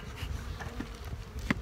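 Honey bees buzz faintly at a queenless spring hive, a brief, soft drone with a few louder passes close by.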